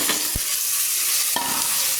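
Rice being stirred into hot oil spiced with biryani masala in a pan, a steady close sizzle with two short scraping stirs, no talking.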